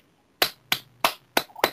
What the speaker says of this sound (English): You know, even Jigsaw is clapping to that.